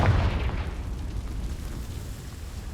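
A Confringo fire spell from Hogwarts Legacy bursts with a heavy low explosion at the start, then rumbles and fades over a couple of seconds, loud and close with no voices.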